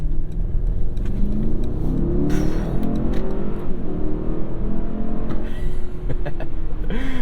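A 2021 Mercedes-Maybach GLS 600 with a bi-turbo V8 pulls away under hard throttle, a muted engine drone rising in pitch heard from inside the cabin, steady and moderately loud with no talk.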